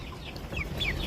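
A colour bird broiler chicken of about 1.3 kg on a poultry farm clucks briefly, a few soft close calls over a dull low background.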